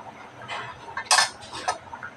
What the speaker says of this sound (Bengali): টালা জিরার গুঁড়া দিয়ে গোশটা একটু আলতোভাবে নাড়াচাড়া করে নেব